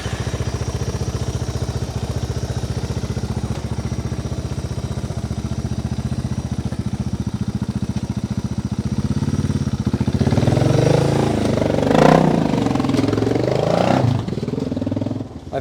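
Suzuki DR650 motorcycle engine running steadily through a test ride, a constant mid-pitched drone that grows louder and rougher in the last few seconds as the throttle opens.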